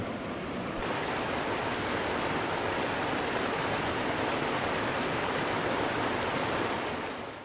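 A river flows in a steady, broad rush of water, loud and close, a continuous roar with no pauses and no voices.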